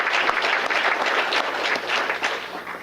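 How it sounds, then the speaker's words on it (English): An audience applauding Chris Johnson of Tech Resources at a mayor's employee recognition awards event, a dense sustained round of clapping from a full room, loud and even for the whole stretch. "We can have a round of applause for him as well."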